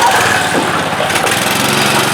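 A Manco Havoc M5 go-kart's small engine runs close and steady at high revs, a loud buzzing drone throughout.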